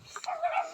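A dog near a forest gives a brief yip that trails into a whine, short and moderately faint, in an outdoor setting.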